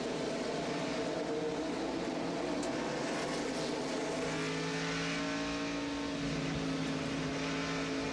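NASCAR trucks race at Louisville in the 1996 Ford Dealers 225, with Ford, Chevy and Dodge entries. Their engines make a faint, distant, sustained whine that rises and shifts in pitch as they run, with no talk.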